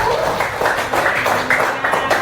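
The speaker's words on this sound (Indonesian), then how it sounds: "Mana tepuk tangan kelompok satu?" A group of primary school pupils claps hands in a classroom, a short burst of rhythmic claps close by, mixed with voices.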